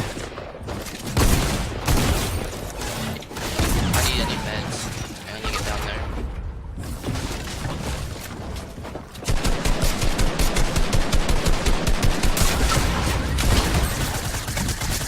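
Rapid gunfire from a new shotgun in a video game, loud and dense throughout with repeated bursts, becoming a steady rhythmic stream of shots in the second half, with game sounds mixed in.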